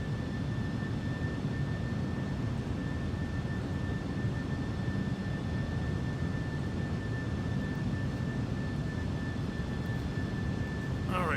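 A cargo airliner climbs after departure on a flight from Edinburgh to Abu Dhabi. A steady, dense engine roar and rushing noise fill the whole stretch with a constant thin whine above it. There is no clear talking.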